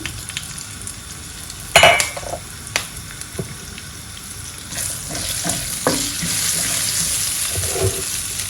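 Chili and turmeric hit hot oil with crackling cumin during khichdi preparation, a loud sharp sizzle burst early followed by a steady frying hiss that swells and continues, with occasional stirring clatter.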